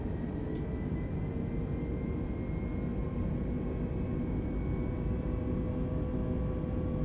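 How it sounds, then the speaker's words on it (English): Airliner engines spooling up for a takeoff roll in Microsoft Flight Simulator, a steady broadband roar with faint tonal whine, continuous and moderately loud throughout. "You hear the engines?"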